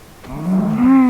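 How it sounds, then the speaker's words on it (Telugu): A single Minecraft cow moo, low and drawn out, rising slightly in pitch as it swells, close and clear. "ఇది ఆవు సౌండ్ వస్తుంది"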